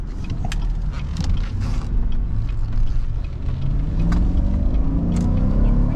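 A 2018 GMC Yukon XL SUV accelerates on the road, heard from inside the cabin as a loud, steady low drone. Engine pitch climbs gradually, with faint creaks and clicks on top.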